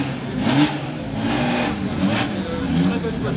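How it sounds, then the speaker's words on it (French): A historic Porsche, car number 135 from a Monte-Carlo historic rally, revs its engine as it departs at a rally stage in Bar-sur-Aube, rising and falling in a few surges under crowd noise and commentary. "on va assister au départ de la Porsche numéro 135."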